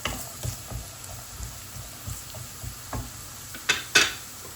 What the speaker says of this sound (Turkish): Kısık ateşte rengi çıkıncaya kadar kavurmaya devam edelim.